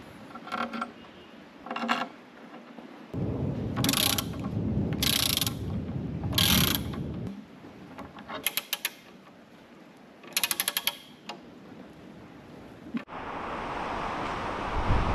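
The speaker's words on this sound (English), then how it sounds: "Let's carefully tighten the screws." Screws being tightened with a ratcheting tool while a designer table is assembled, heard as close-up bursts of rapid clicking ratchet strokes separated by pauses, with a louder mechanical grinding stretch in the middle.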